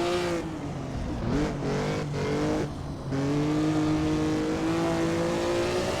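A historic Formula 1 race car is driven hard at the Nürburgring, its engine heard from the cockpit as it drops pitch sharply under heavy braking, then climbs back into a loud sustained rising scream as it accelerates.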